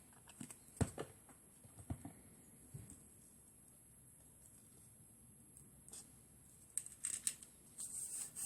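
Scissors snip through paper for a Halloween pop-up card, with a few sharp, close cuts early on, quiet rustling in between, and a busier cluster of snips and paper handling toward the end.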